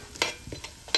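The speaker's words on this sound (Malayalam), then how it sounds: "നന്നായിട്ട് ഇത് വറുത്തെടുക്കണം കേട്ടോ. നന്നായിട്ട് ഇളക്കി കൊടുക്കാം കേട്ടോ." Something is stirred and roasted in a pan, producing a handful of quick scraping strokes over a light sizzle, close and fairly loud with no talking.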